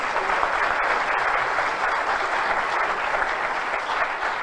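A studio audience claps to welcome a guest. The applause is dense and sustained, loud and even from start to finish, with no voices over it.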